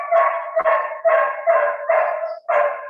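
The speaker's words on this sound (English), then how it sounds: "There's a dog somewhere." A dog barks repeatedly somewhere in the background, six or so even, rhythmic barks at moderate volume with short gaps between them, heard alone without talk.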